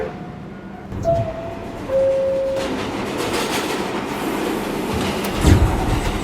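A New York City subway S shuttle train, an R262 car set, runs between Grand Central and Lincoln Center, with a steady rumble of wheels on rail, a couple of brief whining tones, and a clattering burst near the end.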